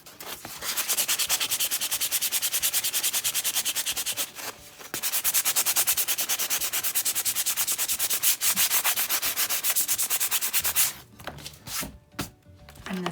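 Sandpaper scrubs steadily against a book to strip off its label, a dense rhythmic rasp near and loud for about ten seconds with one short pause, then a few scattered scrapes and taps.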